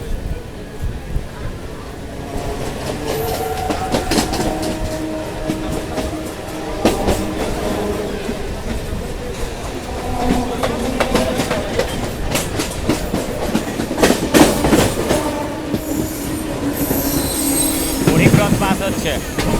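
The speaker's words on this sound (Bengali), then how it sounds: "এটা আগরতলা থেকে আসে মনে হচ্ছে সেই ট্রেনটায়" A train from Agartala rolls through the crowded Dum Dum Junction station, with clattering wheels and squealing rails over continuous crowd noise and nearby voices.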